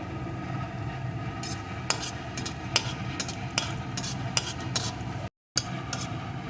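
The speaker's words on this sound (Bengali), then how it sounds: "এখন এই তেলের ভিতরে দিয়ে দেবো একটা শুকনো লঙ্কা কিছুটা পরিমাণ পাঁচফোড়ন এক চুটকি হিং যেহেতু নিরামিষ তরকারি একটু হিং দিলে টেস্টটা ভালো হবে এখন এগুলোকে একটু ভেজে নেবো" Dried chili, panch phoron and a pinch of hing fry in oil for a vegetarian potato curry, giving a low steady sizzle broken by sharp spatula clicks against the pan and a short silent gap near the end.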